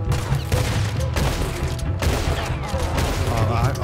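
Rifle fire in Red Dead Redemption, with dense overlapping gunshots and booms in a continuous loud volley, layered under game music and effects, with no voice over it.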